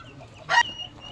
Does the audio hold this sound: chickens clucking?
yes